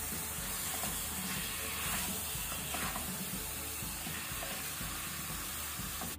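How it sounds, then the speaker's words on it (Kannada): Mutton fries in ghee and onions over a high flame, a loud, continuous sizzle and hiss with faint stirring scrapes and clinks beneath, steady throughout with no talking. "ಇದು ತುಪ್ಪ ಮತ್ತೆ ಈರುಳ್ಳಿಯಲ್ಲಿ ಫ್ರೈ ಆಗಬೇಕು."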